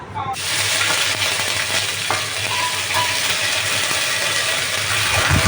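Ginger paste and cumin paste are dropped into hot oil already tempered with dried red chilies, bay leaf and cumin seeds. After a brief silence a loud, dense sizzle begins suddenly and holds steady and close.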